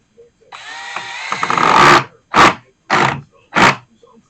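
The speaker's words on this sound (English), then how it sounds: "Let's go ahead and drive these screws in." A power drill whirs close up, driving screws into wood for an outdoor table in one long burst, then three shorter bursts with pauses between, the bit grinding into the wood.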